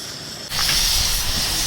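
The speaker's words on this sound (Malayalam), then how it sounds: "തിളച്ച് ചായ തിളച്ചിരിക്കുകയാണ്." Tea boiling on a stove at a milk-boiling ceremony: a sudden loud, steady steam hiss starts about half a second in and keeps going without a break, close up and with no speech over it.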